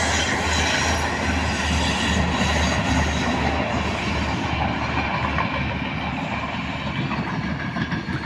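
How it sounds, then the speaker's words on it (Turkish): A passenger train rumbles past up close, steady clattering wheels and a heavy roar filling the whole stretch, no talking heard. "Evet, yolcu treni."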